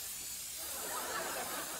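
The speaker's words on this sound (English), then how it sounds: "we'll need to remove the harmful gamma rays from our body using this decontamination spray" Decontamination spray hisses in a steady, unbroken rush for the whole moment, close and even in loudness, with no voices over it.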